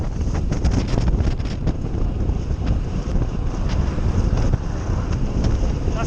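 Strong crosswind buffets the microphone during a fast downhill bicycle descent on a steep road, with a dense, continuous roaring rush that is loud throughout and has no talk.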